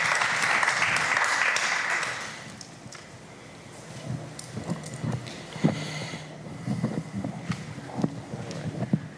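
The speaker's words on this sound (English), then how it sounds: "Please let's give them a round of applause for taking the time to be with us tonight." An audience applauds a panel at an evening talk on race and bias in the courts, first a dense burst of clapping that fades after a couple of seconds, then scattered claps and knocks over low room noise.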